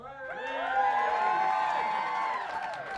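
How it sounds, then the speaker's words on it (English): A comedy roast crowd gives a short burst of cheering and whooping, with many voices rising together and holding for a few seconds before easing off. "You got a few cheers"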